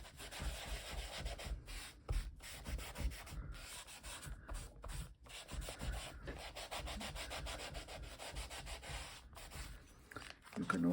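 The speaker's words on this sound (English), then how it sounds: "So I will just burnish it down and be a little careful" Paper in a mixed media piece is burnished down with close, soft rubbing strokes in an irregular rhythm, the short scrapes broken by brief pauses, and a voice speaks faintly now and then.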